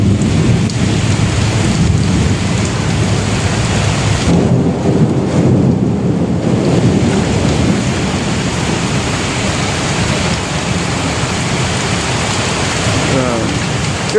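Heavy, steady downpour with thunder rumbling through a storm over flooding streets, loud and constant for the whole stretch, with a voice briefly audible underneath.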